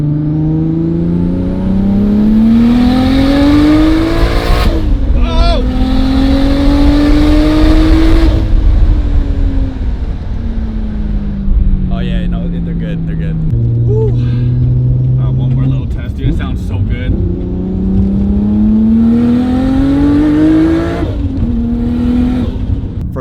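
Nissan R32 GTR engine on high boost, around 21 psi, revving hard through rising gear pulls with sharp shifts between them, loud and close from inside the car, with someone talking over it at times.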